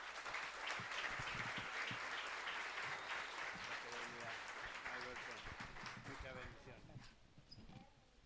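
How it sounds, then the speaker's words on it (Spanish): Applause from a church congregation at a missionary gathering, welcoming a pastor to the pulpit; dense, steady clapping fills the room from the start, then thins and fades toward the end. "lo recibimos con un aplauso"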